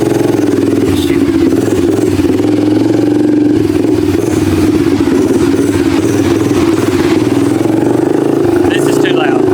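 An old Honda engine with a leaky carburetor runs loudly and steadily throughout, a rough continuous drone with clattering overtones that holds without a break.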